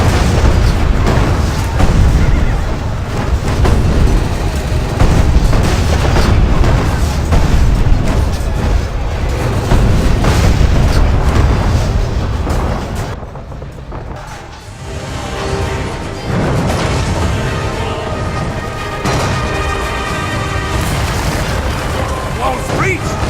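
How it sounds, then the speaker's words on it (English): A siege tank in the video game ArcheAge fires on an enemy fortress, heavy booming blasts rolling one after another amid dense battle noise, with a voice talking over it. "Press R to fire at the enemy fortress 3 times."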